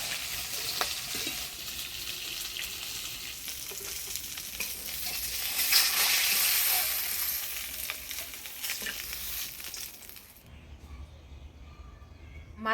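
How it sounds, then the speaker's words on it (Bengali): Rita fish sizzles in hot oil, cooked with elephant foot yam, a loud continuous crackling fry heard up close with light stirring scrapes, swelling midway before cutting off abruptly into near quiet. "মাছটা ভাজিয়ে নিলাম এবার তুলে নিব মাছ"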